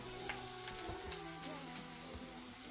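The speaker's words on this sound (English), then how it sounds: "get the onions in there and let them saute down a little bit" Onions sautéing in a pot as the base for a soup, a steady close sizzle with faint stirring scrapes and no talk.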